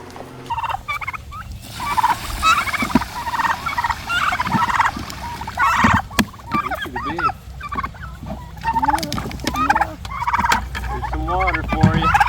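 Pastured turkeys gobble and chatter close by in repeated warbling calls that overlap throughout, with scattered clucks and rustling among the flock.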